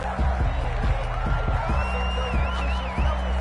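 Home stadium crowd at a football game, a dense, steady roar of many voices with scattered shouts and whistles, loud throughout and close.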